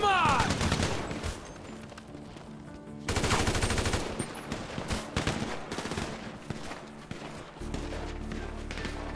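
Bursts of automatic gunfire from a GTA5 zombie mod firefight, loud and dense, with rapid repeated shots, a sharp louder volley around the middle and a steady low rumble near the end.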